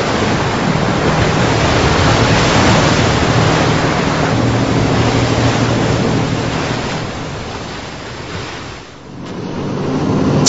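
Sea surf and crashing waves where amphibious armored vehicles drive into the ocean during military trials. A loud, roaring wash with wind buffeting the microphone swells and briefly dips near the end, with no talk.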